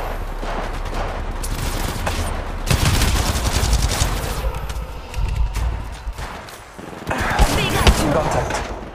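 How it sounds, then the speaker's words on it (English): Continuous gunfire in the video game Apex Legends, dense and loud throughout, with heavy impacts and layered game effects and voice lines mixed in. "Shooting."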